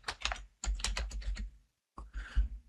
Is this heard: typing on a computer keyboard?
yes